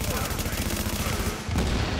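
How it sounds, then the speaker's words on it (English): Dense, loud video game combat with rapid machine-gun fire and a booming grenade blast, a continuous roar of shots with a heavier burst near the end. "so what I'm gonna do, throw a grenade"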